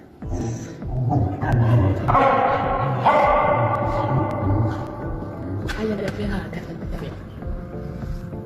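A dog barks and yips excitedly inside a church, repeated bursts ringing over a dense, echoing background of crowd noise and voices.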